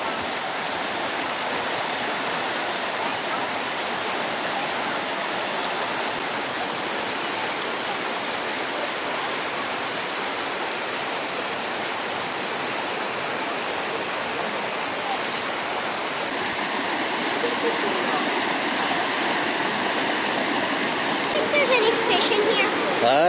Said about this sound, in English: Neat little waterfall here.